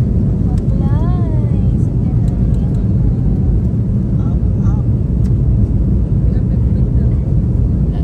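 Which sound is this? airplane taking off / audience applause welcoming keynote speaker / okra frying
airplane taking off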